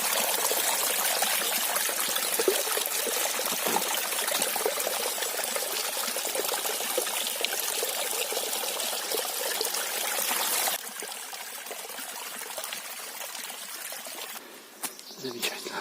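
Water trickles steadily from a spring below rocks on a hillside campsite, a close, continuous bright babble that drops in level partway through as the listener shifts, with a few small knocks near the end.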